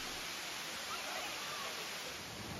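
Erawan waterfall in Erawan National Park, Kanchanaburi, Thailand, heard as a steady, dense hiss of falling water, fairly faint and unchanging over a few seconds.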